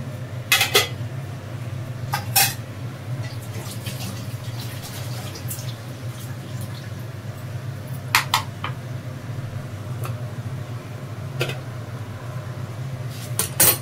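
Washing a spoon and dishes at a home sink, with scattered clinks and clatters of metal and crockery over a steady low hum, with running water beneath and occasional sharper knocks.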